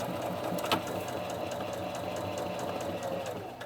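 A Viking Onyx 25 sewing machine stitching fabric, running at a steady, fast, even whir with a rapid mechanical needle rhythm, close and continuous throughout.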